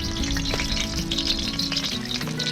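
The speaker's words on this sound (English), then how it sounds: "put them on the fire, stuff it, put the oil on there and cook it all up together" Stuffed Australian salmon sizzles in oil over an open fire, a loud, continuous frying crackle with scattered pops and no voices.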